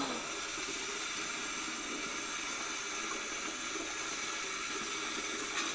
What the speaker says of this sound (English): He's giving this guy a haircut with a water jet.